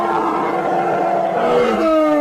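A large unseen creature roars and breathes heavily in a sustained, loud, low rumbling growl with rising tonal snarls toward the end, set as a dramatic sound effect in a Spanish-language audiobook of a My Little Pony fan story.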